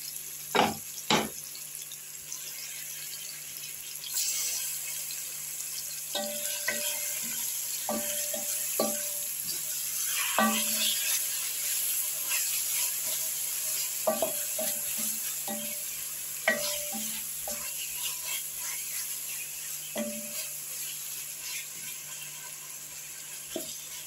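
Marinated chicken frying in a pan with a steady, bright sizzle throughout, broken by intermittent scrapes and knocks of stirring, close and fairly loud, with no voices.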